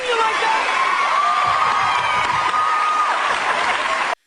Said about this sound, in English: audience was shocked, confused, and cheering all at once